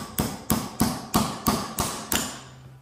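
A cotter pin being knocked out with a needle nose hammer while a Wheel Horse tractor wheel is taken apart, seven sharp metallic strikes at a steady rhythm, close and clear with no talk.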